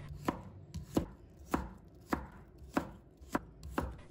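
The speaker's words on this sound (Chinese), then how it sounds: "再准备1根青瓜，把它切成菱形段， 再给它切成菱形片" A knife chops a cucumber into diamond-shaped slices on a board, with seven evenly spaced firm chops, close and clear, and no talking.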